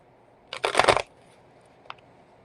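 Tarot cards riffled in one quick, close burst of shuffling, followed by a single faint card flick a moment later, with no talking.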